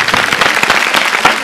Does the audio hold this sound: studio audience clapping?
yes